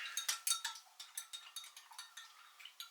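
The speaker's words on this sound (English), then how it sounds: "And I'll stir that in." Spoon stirring two heaped teaspoons of cornstarch into a sauce mixture for sweet and sour pork, giving a run of quick light clinks and scrapes against the bowl, close and fairly faint, with no talking.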